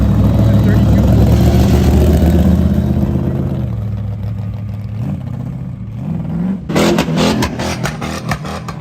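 A car engine roars loudly nearby at a car show, its revs rising and falling, then sharp crackling pops burst out near the end.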